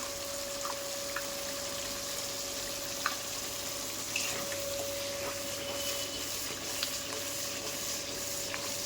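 Spices with salt and sugar fry in a pan with a soft, steady sizzle, broken by faint scraping and stirring clicks of a spatula, no talking.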